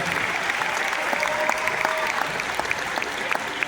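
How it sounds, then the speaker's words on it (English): Loud, continuous audience applause at a dolphin show at Georgia Aquarium, a thick wash of clapping with scattered brighter cheers and whistles mixed in. "How about a round of applause for Ryan and Ruben?"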